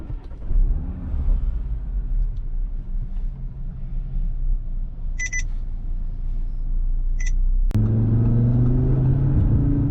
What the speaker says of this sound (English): gonna go ahead and step on it right now, and let's see what this nearly 600 horsepower all-wheel drive car is about